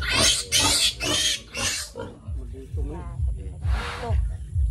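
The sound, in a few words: piglet squealing while being injected with iron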